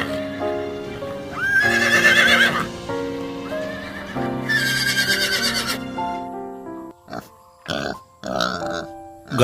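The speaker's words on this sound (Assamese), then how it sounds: "ঘোঁৰা" A domestic horse neighs loudly in two long, shaky whinnies, close and clear, followed by a few short, abrupt snorts and snuffles near the end, with no talking.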